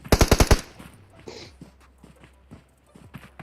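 Gunfire in the mobile battle-royale game PUBG Mobile: a fast burst of about six sharp automatic shots, followed by scattered softer impacts and game sounds with quiet background noise.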